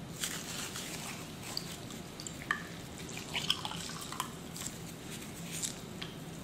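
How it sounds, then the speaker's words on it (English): A paper towel is dunked in dirty paint water and lifted out, giving soft, close drips and light watery patter that repeat at a steady, quiet level. "I'm gonna dunk it in my dirty water"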